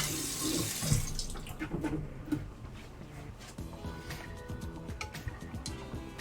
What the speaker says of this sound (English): Immediately rinse out the strainer, get all that fiber and junk out.